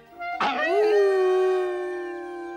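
A single long, clear howl from a female wolf rises sharply and then holds a steady, sustained tone before slowly fading, loud and close.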